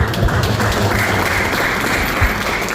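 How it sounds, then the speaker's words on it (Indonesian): Audience applause at the opening of a Scout movement (Pramuka) working meeting in Jakarta, a steady wash of many hands clapping at fairly close range, continuous for the whole moment with no one speaking over it. "Jadi boleh diberikan apresiasi tepuk tangan."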